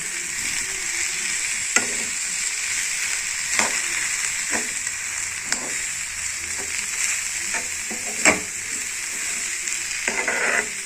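Ivy gourd chutney ingredients with tamarind, coconut and coriander sautéing in a pan, giving a steady close sizzle broken by repeated scraping stirs at irregular intervals.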